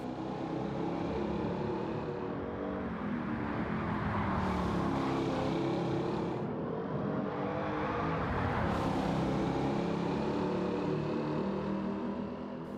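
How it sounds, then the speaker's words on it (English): A De Tomaso Mangusta sports car engine roars continuously in Gran Turismo 7, its pitch climbing and falling through gear changes, with two sharp surges of revving in the middle. "Personally, I think the engine note sounds absolutely fantastic."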